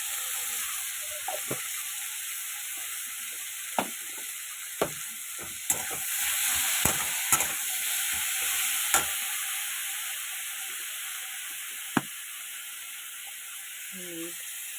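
Tomatoes frying in oil after a dried red chili tempering, a steady hiss of sizzling oil with scattered sharp clicks and scrapes of stirring, close and continuous.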